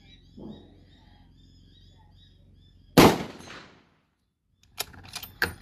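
A firearm fires one loud, close shot that rings out and fades over most of a second, followed after a short pause by a quick burst of sharper, smaller cracks and clatter.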